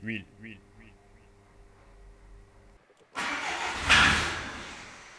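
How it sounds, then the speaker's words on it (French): A car engine with all four injectors disconnected, in a high-mileage engine being rebuilt, cranks and fires abruptly after a quieter stretch, then runs loud and rough up close. "Elle n'était pas censée démarrer, elle a démarré au quart de tour, elle n'était pas censée démarrer, les 4 injecteurs sont débranchés."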